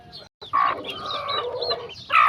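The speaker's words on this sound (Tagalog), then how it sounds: "yung mga inahin ko." Hens on a gamefarm cluck and cackle nearby in a short burst of repeated, raspy calls, with a louder squawk at the end.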